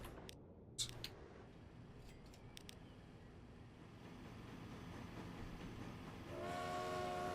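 Steam train pulling away in the Transport Fever 2 video game: a few brief whistle blasts at the start, then a low steady rolling rumble that builds to a louder, tonal whistle-like drone near the end, with no talk.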